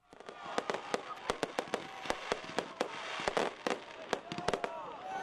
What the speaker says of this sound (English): Then Boomer's gonna go off, fireworks are gonna go off,